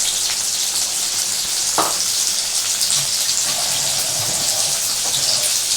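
Ginger garlic paste and tomato fry in a pan with a steady, soft sizzle and occasional stirring clinks, close and alone without talk.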